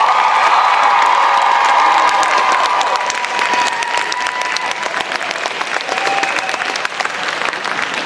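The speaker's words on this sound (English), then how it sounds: "could we do one more real big round of applause for G.L.A.M.S?" Loud, enthusiastic applause from a convention crowd at a cosplay masquerade contest, with cheering and a few shouts over dense clapping that slowly thins toward the end.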